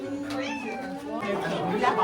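A cat meows with rising, tonal cries at an orchard and farm visit in Kelowna, heard close over steady background noise while people talk nearby.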